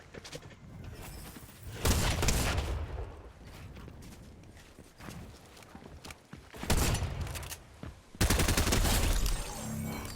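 Rapid automatic weapon fire from Fortnite Chapter 4 Season 3, from a gun with a reduced fire rate, comes in several loud, dense bursts separated by quieter stretches of game ambience.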